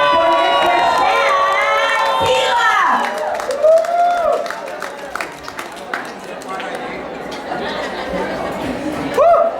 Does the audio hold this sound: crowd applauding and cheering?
yes